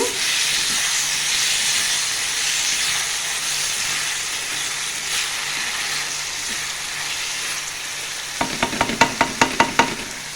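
Soaked moong dal being stirred into a ridge gourd curry in a pan: steady sizzling and steam hiss throughout, then a quick run of sharp scraping, clinking spoon strokes near the end.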